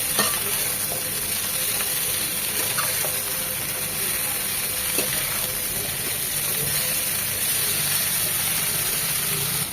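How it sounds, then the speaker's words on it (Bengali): Pieces of brinjal sizzle lightly in hot oil in a pan, a dense, steady frying hiss that runs without a break and with no talking. "পুরোপুরি ভাজবো না, মাছের মতো ঠিক 1 থেকে 2 মিনিট হালকা করে ভেজে নেব"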